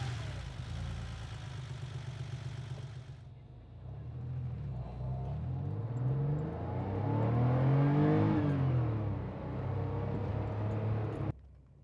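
A classic car, either a Porsche 911 or a Toyota Supra Mk2, accelerates from near idle with rising engine tone, a gear shift, then climbs again before cutting off, heard steadily from inside.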